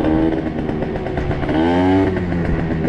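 A drag-racing scooter engine revs loud and close with a raspy buzzing drone, and its pitch climbs sharply partway through the rev.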